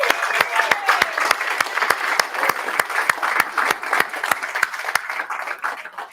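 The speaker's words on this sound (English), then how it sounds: "Let's give them a round of applause." A church congregation applauds six new practitioners with a steady round of clapping, a warm wash of many hands over sharp, evenly spaced claps that keep a rhythmic beat throughout.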